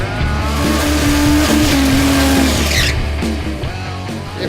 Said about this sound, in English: put their pedal to the metal, spin some rubber, smoke some tyres